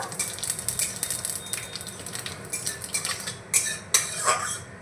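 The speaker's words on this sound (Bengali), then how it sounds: "তেলের মধ্যে এখন দিয়ে দিচ্ছি আমি এক চামচ গোটা জিরে জিরেটাকে ভেজে নেব" Whole cumin seeds fry in hot oil in a kadai with a steady crackling sizzle, broken near the end by two sharp utensil clinks against the pan.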